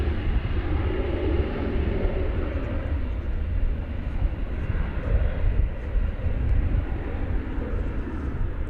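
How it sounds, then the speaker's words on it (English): An American Airlines Airbus A321 arriving at DFW Airport, a steady low jet roar that holds throughout at moderate distance, with faint talk underneath. "an Airbus A321 American Airlines coming in from question mark"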